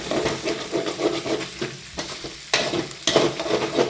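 Potatoes sautéing in oil in a pan, a loud, close sizzle broken by repeated scraping stirs of a spatula, with bursts of stronger crackle toward the end.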